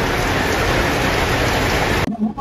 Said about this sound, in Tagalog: Sobrang lakas ng ulan. As you can hear the raindrops.